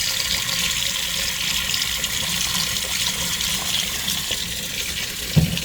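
Tap water runs into a kitchen sink to fill it with vinegar-laced water for washing bok choy, a steady close rushing hiss that continues unbroken with a small knock near the end.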